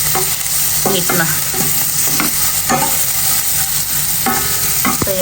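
Salmon curry fries in a pan under a constant sizzle, punctuated by a rhythmic series of close scraping and clacking stirs, with no one speaking.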